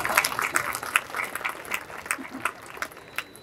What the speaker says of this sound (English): you can clap for yourself if you want